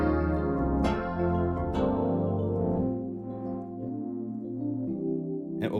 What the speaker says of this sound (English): The demo version is going to be one of the best sounding free demo synthesizers you can get